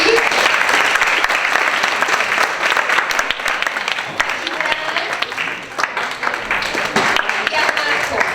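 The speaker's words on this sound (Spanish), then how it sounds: "les voy a pedir que le den un aplauso de verdad muy fuerte a Nasnia," Loud, sustained applause from a conference audience, dense clapping filling the room for the full stretch without a break.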